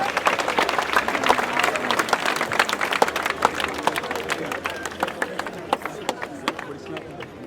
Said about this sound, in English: Let's give a round of applause to our principal.